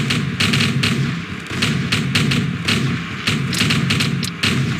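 Artillery and gunfire effects from the War of the Worlds musical's Black Smoke battle scene: a dense, continuous barrage of booming blasts and crackling shots, with heavier bursts around the start, the two-second mark and near the end.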